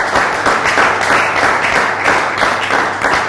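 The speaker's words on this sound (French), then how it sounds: "Merci d'applaudir." A room full of audience members claps steadily through a short, loud burst, an even roar of applause with no pauses.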